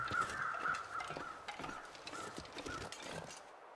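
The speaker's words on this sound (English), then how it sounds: "I can hear crows." Crows caw repeatedly in the distance in the video game The Long Dark, faint, spaced calls over a quiet snowy ambient wind bed, with no one talking.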